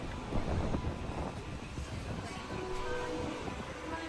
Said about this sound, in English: This is a very windy night, I guess.